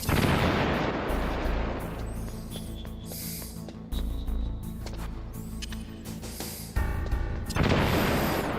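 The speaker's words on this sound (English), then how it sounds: "Also, whoops, grenade." A grenade goes off in Metal Gear Solid, a heavy boom among a string of loud blasts and gunfire-like bursts, close and punchy against a droning game background.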